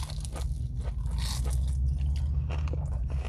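Breaded fried chicken being bitten and chewed up close, with repeated crisp crunches and moist chewing over a low background hum.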